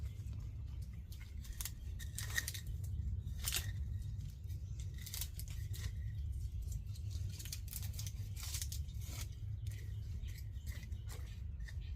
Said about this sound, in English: I like to get down in here, cut those roots so that dirt will stay where it wants to stay.